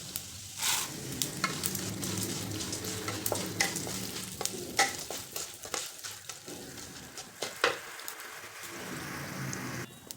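Urad dal and chana dal frying in oil with mustard seeds for lemon rice, a soft continuous sizzle broken by sharp stirring clicks and scrapes, close but fairly quiet.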